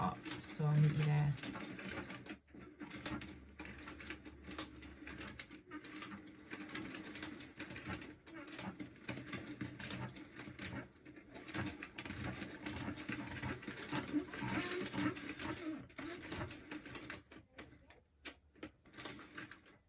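Prym Maxi knitting machine cranked slowly around, giving a steady run of soft mechanical clicking and ratcheting that continues throughout at low level, with no clear talk.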